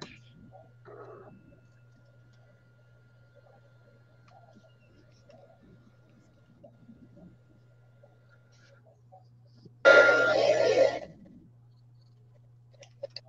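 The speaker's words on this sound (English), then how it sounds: "That was my phone ringing" A mobile phone rings once, a loud, bright burst of roughly a second standing out over a low steady hum and faint background sounds in a quiet room.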